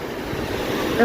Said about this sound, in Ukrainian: Цей шум моря, знаєте, припливи, відливи.